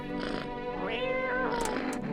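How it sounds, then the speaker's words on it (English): A cat meows in a drawn-out, wavering call over a steady background of game music in the video game No I'm Not a Human. "Pet the cat."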